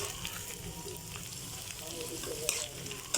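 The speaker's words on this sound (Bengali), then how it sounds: "কচুরমুখী ভেজে তারপর রান্না করব" Taro (kochur mukhi) sizzles steadily as it fries in oil in a home kitchen pan, a close, continuous crackle with occasional stirring clinks and faint background voices.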